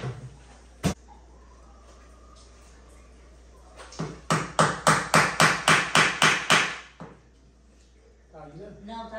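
A nail is hammered during a concrete sink installation in a home kitchen renovation: one early knock, then a quick run of about ten evenly spaced, ringing blows. Voices are heard around the strikes.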